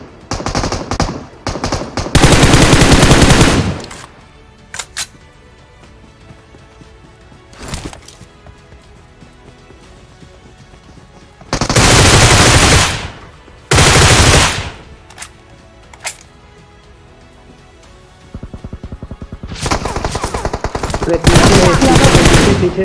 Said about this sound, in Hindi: कोई बंदा पीछे से मेरे ऊपर गोली चलाता है